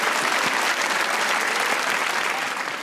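Steady, dense applause from a studio audience on a comedy talk show, continuous and fairly loud with no speech over it.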